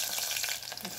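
Onions sizzle in hot oil in a pan while cooking tomato curry, a steady, close crackling hiss.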